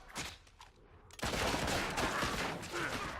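Gunfire in the Fable II video game: a few muffled shots, then a sudden dense burst of rapid, overlapping blasts that stays loud and continuous to the end.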